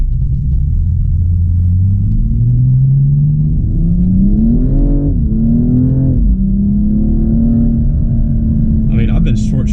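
A 2015 BMW M235i accelerates while being short shifted, with a deep engine rumble rising in pitch, dipping at a gear change and climbing again under steady cabin road noise.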